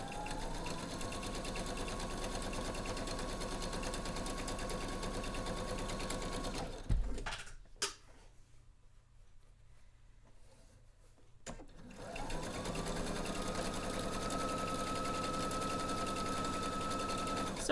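A sewing machine stitches the edges of a quilt block with a steady, fairly loud motor hum, pauses briefly with a few clicks, then resumes running steadily.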